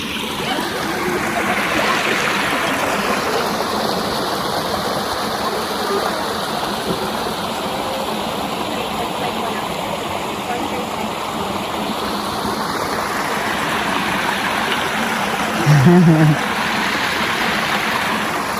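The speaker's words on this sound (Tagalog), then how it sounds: "Daghang tubig." A stream flows on a hike near Sant Miguel del Fai, a constant, close rush of water lasting throughout, with a brief voice partway through.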